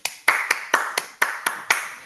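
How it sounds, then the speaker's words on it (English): Applause after a presentation on safer streets in Prince George's, heard as eight crisp, fairly close single-person claps in an even rhythm. "offer up some applause myself for Veronica."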